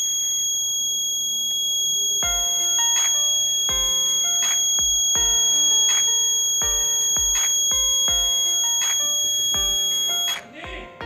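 A buzzer in a simple fire alarm circuit sounds in a loud, steady run of sharp beeps, the pulses repeating close up before cutting off at the end.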